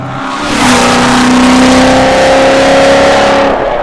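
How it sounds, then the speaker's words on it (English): A loud 1000 hp Hennessey Corvette Z06 engine revs up and holds a high, rough drone with a loping idle character, a whining centrifugal supercharger tone layered over the roar, close by. "Has that old school muscle car lope."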